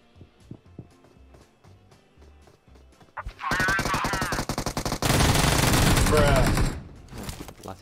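Rapid automatic gunfire rattles out in a video game shooter. It opens after a few seconds of sparse clicks and quiet sounds, then continues in loud, dense bursts before cutting off near the end, with some talking.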